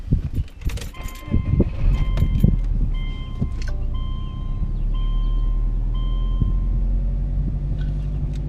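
A Subaru Legacy GT engine, Stage 2 tune with a Cobb SF intake, cranks and catches, then settles into a steady low idle rumble, with a few faint electronic chimes and clicks over it.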